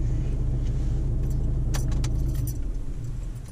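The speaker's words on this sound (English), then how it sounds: "if you switch off the engine for me." A car engine shuts off as keys jangle near the ignition, a steady idle rumble dropping away and giving way to light metallic clinks and rattles.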